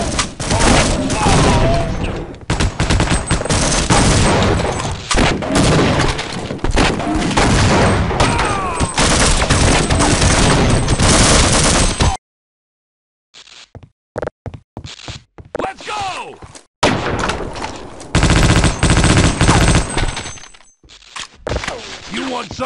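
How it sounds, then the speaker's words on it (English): Covering gunfire rattles in Half-Life: Opposing Force as dense, loud bursts of automatic shots and thuds. A sudden silent gap breaks the firing, then choppy volleys resume, with game voices heard among the shooting. "covering fire!"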